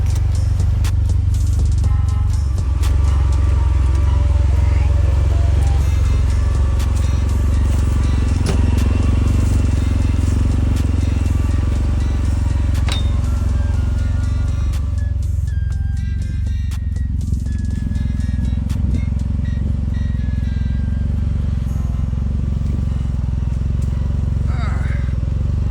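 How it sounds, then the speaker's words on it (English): A Speed UTV drives through woods towing a wood chipper, its engine droning loud and close throughout, with rattling, clattering and brush crackles over rough ground, and a voice talking at times. "I was towing a wood chipper through the woods"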